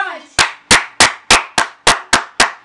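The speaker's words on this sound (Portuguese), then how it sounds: "9 salvas de palmas!" A run of eight sharp hand claps at an even, brisk rhythm, close and loud, after a moment of quiet.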